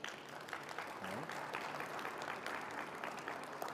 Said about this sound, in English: I'm not sure if you heard the applause that just broke out in the audience